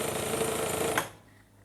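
Sewing machine stitching a trouser hem, a steady fast mechanical whir for about a second before it stops abruptly into near silence.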